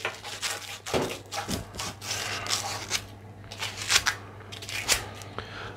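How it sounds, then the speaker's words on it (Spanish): Sanding and cleaning the neck of a golf club shaft to remove old glue, a close, continuous run of rapid scratchy rubbing strokes with uneven rhythm. "le limpiamos un poquito el cuello, le lijamos un poquito"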